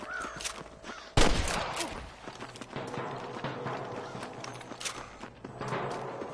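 Gunfire in the Red Dead Redemption video game: a sharp loud blast near the start followed by scattered fainter shots and clatter amid galloping hooves and game ambience.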